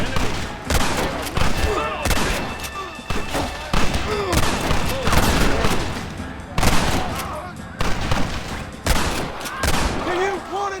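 Rapid gunfire in a Wild West shootout in Red Dead Redemption, with repeated sharp shots and bursts rattling off in clusters across the whole stretch, loud and close, with game voices faintly mixed in.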